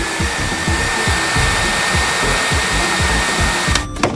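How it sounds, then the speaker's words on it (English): Steady hair dryer blowing at close range, a continuous loud whoosh with a rhythmic low pulsing underneath, ending with a brief click or bump near the end; no talking. "Get the blow dryer."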